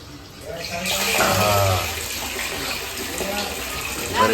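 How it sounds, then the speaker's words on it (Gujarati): Water gushes steadily from a tap into a tank, a continuous splashing rush with a voice talking faintly in the background. "પાણી ચાલુ થઈ ગયું છે"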